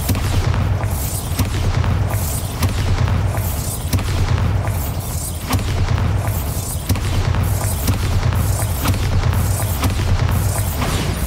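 Bombarda spell blasts from the video game Hogwarts Legacy boom over and over at a steady pace, each deep, loud burst rolling into the next over a constant dense rumble.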